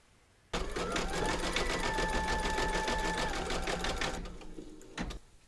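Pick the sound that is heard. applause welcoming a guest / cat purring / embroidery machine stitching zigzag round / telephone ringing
embroidery machine stitching zigzag round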